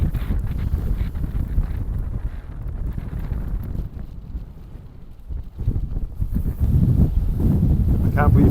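Strong wind on a Hebridean beach buffets the microphone with a loud, continuous low roar that dips briefly in the middle and then picks up again.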